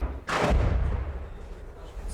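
An RPG rocket-propelled grenade explosion strikes a building in a frontline town under attack: one sharp, loud blast followed by a deep rumbling decay that fades over about two seconds.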